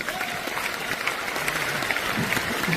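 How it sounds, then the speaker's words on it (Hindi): An audience at an RCM Next Generation event in 2024 claps steadily throughout, a dense even patter of hands with faint voices underneath. "ताली बजा सकते हो।"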